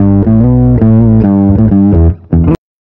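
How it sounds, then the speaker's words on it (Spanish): An electric guitar played through a DOD Meatbox subsynth pedal with the lower octave turned up, loud sustained notes with a heavy sub tone, ending in a sudden cut to silence. "si yo le doy más a la ganancia de bajo, va a ir saliendo esa octava"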